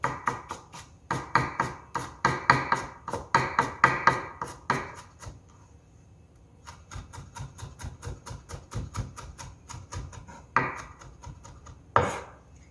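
A knife minces ingredients on a cutting board for Italian meat sauce, striking in fast, rhythmic bursts of sharp, close chops, easing into a slower run of taps and ending with a couple of louder strikes.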